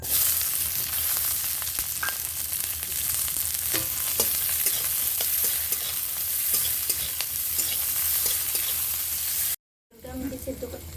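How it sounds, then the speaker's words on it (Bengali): Sliced onions fry in mustard oil with a steady, dense sizzle while a spatula stirs and scrapes the pan in occasional knocks. The sound stays close and loud throughout, then cuts out briefly near the end before resuming. "পেঁয়াজটাকেও খুব সুন্দর করে আমি তেলের মধ্যে ভেজে নিচ্ছি"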